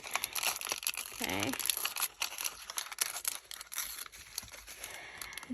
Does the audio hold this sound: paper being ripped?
yes